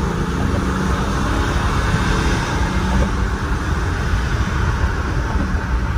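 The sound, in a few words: BMW X6 40d engine accelerating under kick-down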